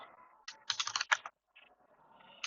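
Keystrokes on a computer keyboard as code is entered, in short bursts of clicky taps with pauses between, fairly close and moderately loud, with no talking.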